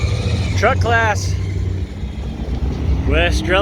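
An old Chevrolet Apache pickup runs in the truck class at a 2021 NMCA racing event, its engine revving in rising, harmonic bursts over a constant rumble, with commentary heard alongside.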